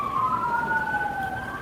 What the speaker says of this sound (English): how many times that damn siren